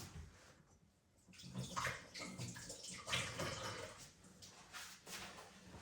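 Running tap water splashes and gurgles over sticky fingers as they are rinsed, steady and fairly quiet with small shifts in flow, close by.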